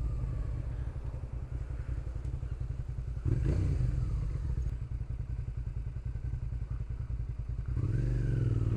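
A motorcycle with a loud exhaust filtering through traffic, its engine thrumming steadily up close with a couple of sharp revs and throttle surges, alone without talk.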